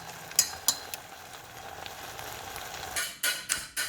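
Samyang spicy black bean roasted chicken ramen noodles cooking in hot black bean sauce, a low steady sizzle with a few sharp utensil clinks against the pan, then several louder stirring scrapes near the end, no talking.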